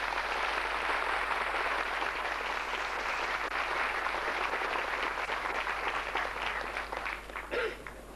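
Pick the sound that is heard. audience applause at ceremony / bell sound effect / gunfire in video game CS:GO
audience applause at ceremony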